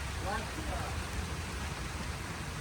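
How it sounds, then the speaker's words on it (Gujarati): Heavy rain pours down at a home in rural Kathiyawad, a dense, loud, continuous broadband wash of falling water filling the whole scene, with a brief faint voice near the start. "આને કહેવાય વરસાદ"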